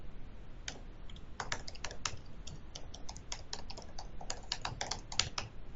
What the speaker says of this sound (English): This typing is taking some time from this demonstration